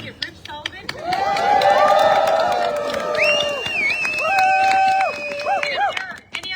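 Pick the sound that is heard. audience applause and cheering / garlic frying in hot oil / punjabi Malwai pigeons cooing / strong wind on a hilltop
audience applause and cheering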